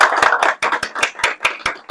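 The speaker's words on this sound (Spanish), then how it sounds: "Démosles un aplauso a nuestro siguiente expositor" Rhythmic, fairly loud clapping from a small conference audience welcoming the next speaker, a handful of distinct claps roughly evenly spaced, close and dry with no talk.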